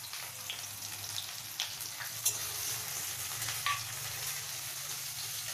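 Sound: onions and nigella seeds frying in hot oil

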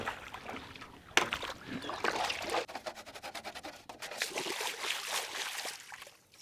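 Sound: washing plastic TV back covers with water

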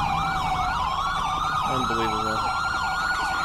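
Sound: police sirens blaring in video game GTA V

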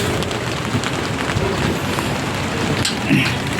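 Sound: rain falling at a construction site

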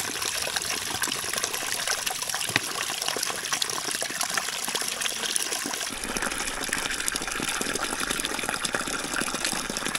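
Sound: drinking water being refilled from a mountain source

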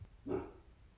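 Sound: dog barking

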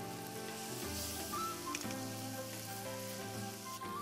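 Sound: spicy pork stir-fry sizzling in pan with gochujang

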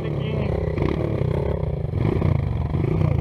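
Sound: motorcycle engine

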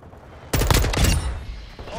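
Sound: gunfire in the video game Call of Duty Modern Warfare II

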